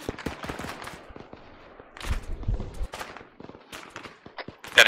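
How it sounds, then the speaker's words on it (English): Small-arms gunfire in an ARMA 3 infantry firefight, scattered sharp cracks and short bursts at varying distances, some nearby and loud, others distant, with little talk. "Small arms fire from the north, up the hill."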